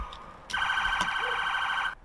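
A police car siren wails steadily for about a second and a half, a loud electronic tone sounding close by in a residential neighborhood where officers were chasing loose dogs, with a short quieter stretch before it starts and after it cuts off.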